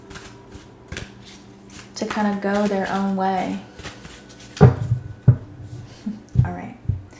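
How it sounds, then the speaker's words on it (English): Tarot cards being shuffled, with soft riffling and crisp card taps and slaps heard close up, interspersed with a person talking. "All right, I'm done shuffling here."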